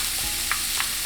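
Onions, celery, garlic and green onions cooking down in a pan, giving an even, close sizzle with two soft stirring taps, brief and without voices.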